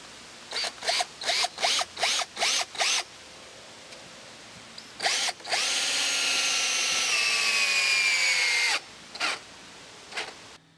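A cordless drill/driver with a Torx-style bit drives a screw: six quick trigger bursts, a short pause, then one long whirring run of about four seconds, followed by two final short bursts, close and loud.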